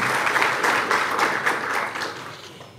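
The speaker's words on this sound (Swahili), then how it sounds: "Naomba tumpigie makofi" A crowd claps steadily for about three seconds, a dense even patter that slowly tapers off toward the end.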